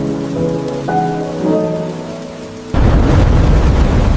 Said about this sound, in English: They sit huddled together in the rain, safe from the dangerous storm.